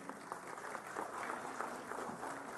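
Sustained applause from a conference audience honouring a Lok Sabha Speaker at a presiding officers' gathering in Maharashtra, a steady dense wash of many clapping hands with no pause.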